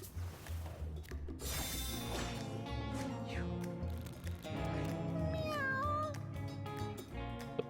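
Cats in the Mewgenics video game gathering to devour food, with several close meows and yowls, chewing and scuffling noises, and a busy clatter of game sounds throughout.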